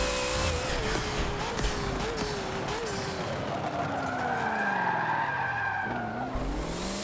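A car drifts in the racing game Forza Motorsport 7. Tires squeal in long, wavering howls over a droning engine. The pitch bends downward and then rises again as the slide continues.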